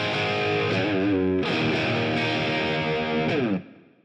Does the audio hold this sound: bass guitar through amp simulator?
yes